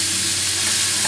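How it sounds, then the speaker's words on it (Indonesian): Chicken pieces stirred with spice paste in a hot pan for Indonesian grilled spiced chicken, a steady loud sizzle with soft scraping of the spatula, close and continuous with no voices. "Kita aduk."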